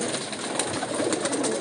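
Pigeons kept on a rooftop loft coo in a steady, fairly loud murmur across a short stretch, with no voices over them.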